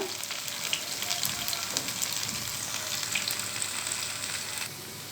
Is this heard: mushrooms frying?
yes